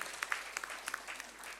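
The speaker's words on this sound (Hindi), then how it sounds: "आपसे निवेदन है, एक बार पुनः तालियों से मंचासीन अतिथियों का स्वागत कीजिए।" Applause welcoming guests seated on stage at a silver jubilee celebration, a brief burst of clapping from an audience with scattered sharper claps, fading out quickly.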